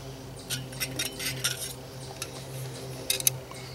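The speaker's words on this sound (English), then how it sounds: "Put my lid on." A metal lid set onto a pot on an alcohol stove, several light clinks and rattles at close range over a low steady hum.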